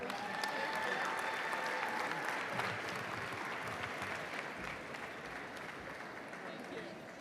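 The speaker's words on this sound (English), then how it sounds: "Please join me in a round of applause for Summer 2022, Winter 2022, and Spring 2023 graduate degree recipients." Sustained applause from a commencement audience honoring graduate degree recipients at a university College of Education spring graduation, a dense, steady clapping that holds for several seconds and slowly eases off.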